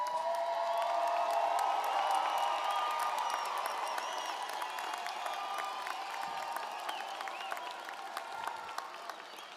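A large arena audience at a College of Social Work convocation ceremony applauds in sustained, dense clapping with a few cheers and whoops, steady throughout and slowly thinning toward the end.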